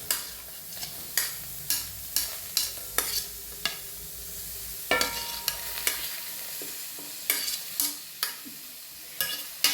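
Onion, curry leaves and sliced coconut frying in a pan, a steady sizzle punctuated by regular spoon scrapes and taps as the mix is stirred, close and without talk.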